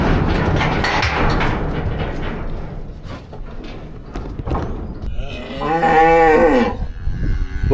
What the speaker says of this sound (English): Cows are out here ready for them too.